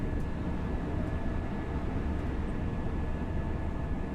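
A modern train running on the Grantham to Doncaster route in Train Sim World 4, a steady loud rumble and drone with no breaks throughout.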